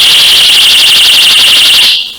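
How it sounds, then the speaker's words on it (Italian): A personal safety alarm keychain, set off by pulling its tab, blares a loud, steady, warbling high-pitched siren for about two seconds before cutting off abruptly. "È un allarme. Fantastico. Per spaventare gli aggressori."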